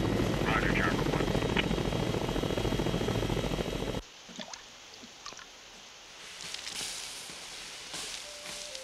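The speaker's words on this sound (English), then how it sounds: "Salt Lake City, this is Chopper One. We have refueled and are back in the air." A helicopter in flight roars steadily for about four seconds, then cuts off abruptly to a quieter scene where voices are heard.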